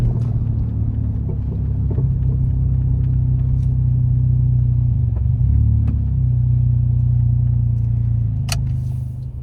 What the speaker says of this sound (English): as I come up to this red light, I'm going to see if you can notice that brake pulsation